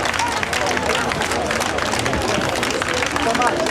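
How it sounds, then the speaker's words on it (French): A crowd applauds a defense lawyer on the courthouse steps, steady dense clapping mixed with the babble of many voices and scattered shouts throughout. "Sur le perron du palais de justice, la foule applaudit son défenseur"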